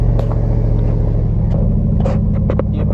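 Truck engine crawling in low-range gears, a steady low rumble with a constant idle-like throb throughout and a few faint higher clicks and squeaks over it, no speech.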